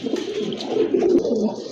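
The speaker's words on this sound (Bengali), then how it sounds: "দেখেন আকাশি কালার ভিতরে একজোড়া রাজগোল্লা কবুতর, খুবই সুন্দর কলসি গলা" Pigeons coo steadily and close by, a pair of sky-blue Rajgolla fancy pigeons with full rounded throats, their low throaty murmurs rolling on without pause and no talking over them.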